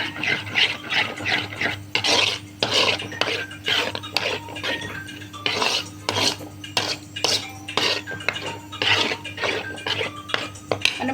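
Spoon stirring yogurt into mutton paya curry in a pot on a low stove, repeated scraping and clinking strokes against the metal in an uneven rhythm, fairly quiet and close.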